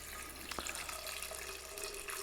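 Water pours steadily into a clear glass IKEA vase during a simple sunflower arrangement, a continuous close splashing stream with no talk over it.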